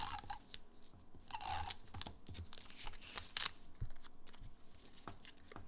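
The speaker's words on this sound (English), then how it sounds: "So we're gonna go ahead and tape." Tape being torn and handled while assembling a cardstock gift card purse, with several quick ripping and crinkling bursts spread irregularly across the span, close and fairly quiet.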